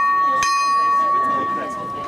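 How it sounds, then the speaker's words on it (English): The 30-second bell at a polo final rings once with a sharp strike, then its clear tone sustains and slowly fades, heard over a murmuring outdoor crowd. "That's the 30-second bell."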